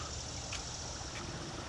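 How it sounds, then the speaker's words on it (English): Water runs in a state fair water garden with lily pads at a farm, a steady, soft trickling wash heard from a short distance, faint and continuous without talk. "And we've got the State Fair water garden. Okay, I can hear it running."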